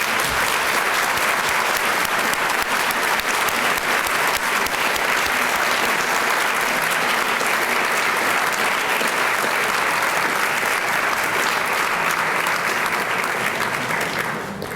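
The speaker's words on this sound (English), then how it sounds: "Please join me in a round of applause for our TLG pioneers." An audience at a Thursday Luncheon Group 40th anniversary gathering gives sustained, dense applause for honoured pioneers, loud and unbroken throughout.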